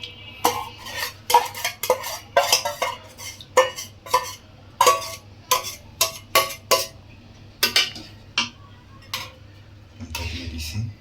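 Eggs go into a pan of potato curry with clinking and scraping of a utensil against the pan, a series of sharp irregular taps and stirs, close and fairly clear over a low steady hum.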